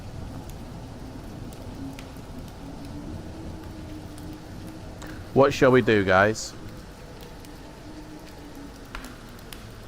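Steady rain, heard as a continuous hiss as if falling on a surface, runs through the whole stretch at moderate level, with a short burst of talking partway through.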